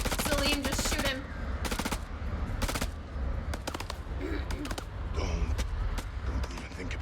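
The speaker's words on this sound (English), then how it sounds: "Salim, just shoot him." Gunfire in the House of Ashes horror video game, repeated short bursts of automatic rifle fire in irregular clusters over a low rumbling background, moderately loud, with voices talking in between.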